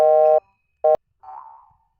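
Synthetic mobile phone ring tone: a steady harmonic electronic tone sounds for about 0.4 s, a shorter repeat follows, then a softer warbling tone trails off, clear and close with no talk.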